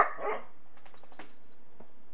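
A dog gives one short, loud bark at the start, then only faint, scattered yips and household noises follow.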